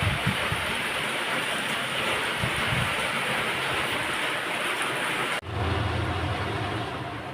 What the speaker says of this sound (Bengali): বৃষ্টিটা আরো বেড়ে গেল।